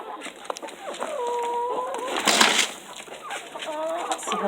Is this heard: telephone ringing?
no